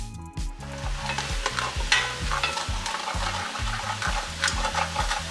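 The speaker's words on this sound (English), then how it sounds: "I'm going to add a little bit of beef stock to this. I want to scrape the bottom of my" Beef stock hits a hot pan and sizzles loudly while a utensil scrapes the bottom in repeated rhythmic strokes, the crackle and scraping continuous and close with no talking.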